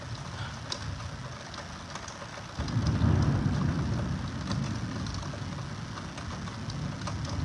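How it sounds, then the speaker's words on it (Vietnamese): Heavy rain pours during a thunderstorm in Hanoi, a dense, steady roar that swells with a deeper low rumble partway through and then continues at a strong, even level. "mưa vẫn rất to"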